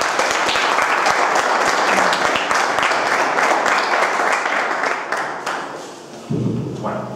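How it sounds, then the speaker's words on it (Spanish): An audience applauds a speaker, José Juan Montejo, at a talk on sixty years of UFO history in Spain, with dense, steady clapping filling the room before it thins out and a low thump lands near the end. "ahí os dejo un aplauso para José Juan"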